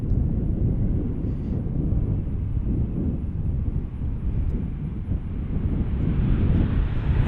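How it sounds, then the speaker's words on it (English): A Boeing 737-900 departing runway 27 at Cincinnati airport, heard as a distant, steady low roar of jet engines mixed with wind buffeting the microphone, sustained throughout with no talk. "I've also got a 737-900 getting ready to depart runway"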